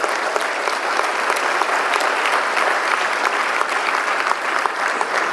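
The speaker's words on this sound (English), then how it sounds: "Let's give all of those recognized a big round of applause." Sustained applause from a large seated audience at a funeral service awards breakfast, steady and dense throughout with no voices on top.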